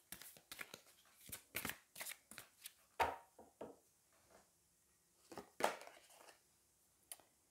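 Tarot cards being shuffled by hand for a reading: a string of crisp, close riffling and slapping bursts in uneven rhythm, quiet overall with brief pauses between handfuls.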